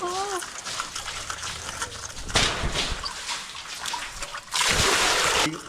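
Water drawn up from a well being cleaned out is poured away in heavy splashing bursts, one short pour and then a longer, louder gush close by, with quieter trickling and faint voices in between.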